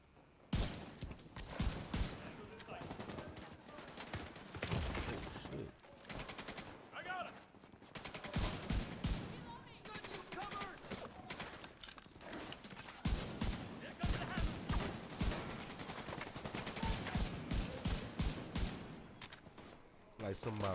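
Gunfire in a PvP video game match: rapid bursts of shots and automatic fire crackle densely throughout, broken by a few short pauses, while a person talks over the shooting.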